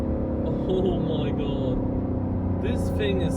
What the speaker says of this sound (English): let's give it full throttle here again. Oh! The V12 sounds so good.